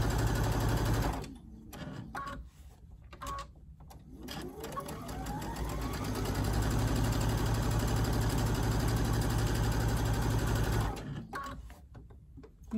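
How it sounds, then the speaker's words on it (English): Sewing machine stitching two fabric mask pieces together with a 1/4 inch seam, backstitching at the start and end: close, steady motor whir in bursts with short pauses, then one long continuous run before stopping. "sew these two pieces right sides together"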